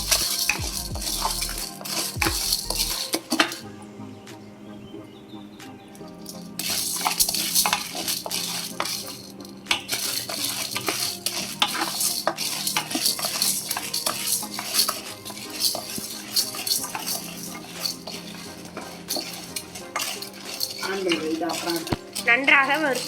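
Chana dal dry-roasting in a pan over a low flame, with a spoon repeatedly scraping and clinking against the metal while the lentils rattle, close and continuous, and brief talking in places.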